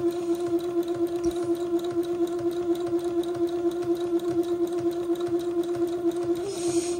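A sewing machine runs steadily, stitching a straight seam on a dress, a close, even mechanical hum with a rapid regular needle rhythm lasting throughout, and no voices.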